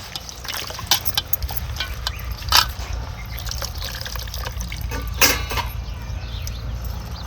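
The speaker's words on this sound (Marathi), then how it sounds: "दोन पाण्याने आपल्याला धुवून घ्यायची भाजी" Fresh fenugreek leaves being washed by hand in water, with close splashing, trickling and dripping and a few louder swishes as the greens are moved and lifted.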